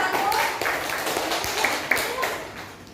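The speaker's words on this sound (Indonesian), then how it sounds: "Kita beri tepuk tangan untuk kelompok 1." Classroom clapping for a student group, a short ragged patter of hands from a modest crowd of pupils, fairly close, with some voices mixed in.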